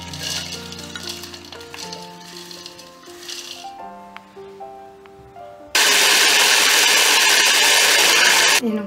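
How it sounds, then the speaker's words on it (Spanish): An electric grinder mills hazelnuts for a homemade carob spread, bursting in abruptly after soft background music with a loud, steady, close whirring roar that lasts about three seconds and then cuts off. "Primeramente voy a moler la avellana."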